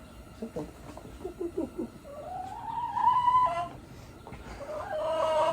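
A hen clucks close by inside a Subaru Sambar, first in a string of short, quick clucks, then in longer drawn-out calls that rise and fall over a quiet background.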